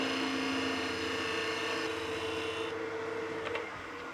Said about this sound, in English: then we can bring that across and get that same shearing planing cut.